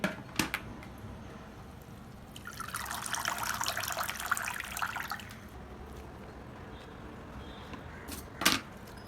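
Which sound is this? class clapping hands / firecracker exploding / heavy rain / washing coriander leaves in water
washing coriander leaves in water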